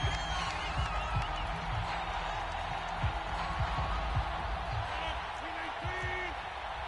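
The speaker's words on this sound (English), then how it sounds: "Plenty of shouts from this crowd as they watch the replay" A football stadium crowd shouts and roars while watching a replay, a steady, dense wall of voices with scattered yells and whistles rising over it throughout.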